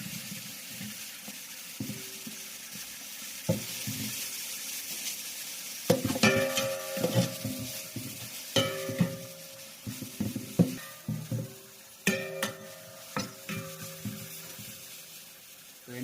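Chicken frying in a little oil for a village-style chilli chicken fry: soft continuous sizzling broken by repeated loud scraping and clattering stirs, close up, with irregular bursts in the second half.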